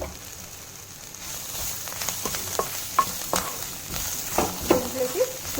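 Coarsely pounded ginger garlic paste sizzles in a hot pan, a steady close frying hiss punctuated by scraping stirs and small pops, with no talk over it.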